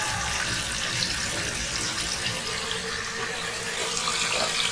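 Kitchen tap water runs steadily into a sink while a kitchen towel is rinsed, a continuous close splashing rush with no pauses.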